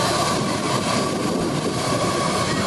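Air France Airbus A340 jet engines roaring at takeoff in St Maarten, a loud, broad, steady rumble and hiss heard up close without letup.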